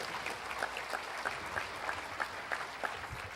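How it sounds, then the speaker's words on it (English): An audience at the Reed College 2006 commencement claps in a quiet, fairly rhythmic patter of distinct hand claps that continues throughout. "All right, you're clapping."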